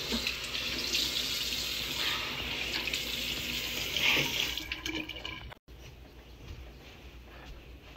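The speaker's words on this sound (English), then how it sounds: "I'm done washing my hair and my hands." Tap water runs steadily into a bathroom sink during a night-time routine of washing hands, a close continuous rushing hiss that cuts off abruptly near the end, leaving quiet room tone.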